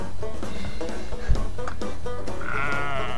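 Sheep in a sheep-farming video game bleat repeatedly over a steady bed of game music and effects, the calls near and fairly loud.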